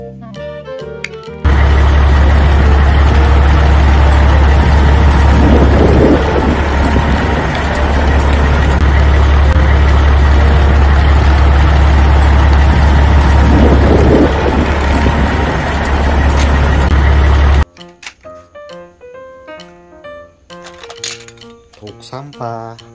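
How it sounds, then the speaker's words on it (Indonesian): A yellow toy cement mixer truck runs with a loud, steady mechanical drone and low rumble for about sixteen seconds, then cuts off abruptly, leaving scattered light clicks and clinks. "Molen berwarna kuning."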